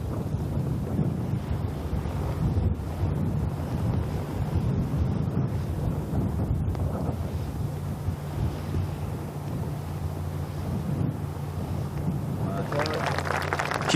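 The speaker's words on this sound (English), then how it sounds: "It's getting a little gusty out here." Gusty wind buffets the microphone on an open golf course during the final round of the 2025 KPMG Women's PGA Championship, a steady low rumble that swells and eases throughout, loud and close.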